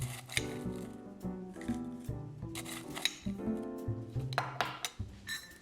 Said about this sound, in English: Now you're gonna fill the cup up with crushed ice.